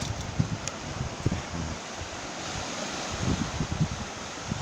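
Sea waves washing ashore beside a wooden deck walking path on Jeju's coast, a soft continuous surf with gentle swells, mixed with light wind and faint rustling, heard steadily at moderate distance.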